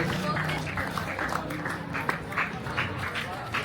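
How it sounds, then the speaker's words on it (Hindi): A crowd claps steadily in sustained applause at a district-level youth panchayat event in Khaireka, Sirsa, the dense patter of many hands filling the space while a voice speaks over it. "तालियों के द्वारा इनका स्वागत, तालियां रुकनी नहीं चाहिए"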